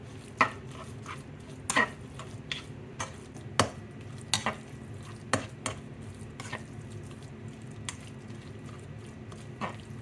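Spoon stirring breadcrumb mixture into a gluten-free crab and shrimp cake mix in a bowl, a scattered run of soft scrapes and clicks over a low steady background hum, with no talking.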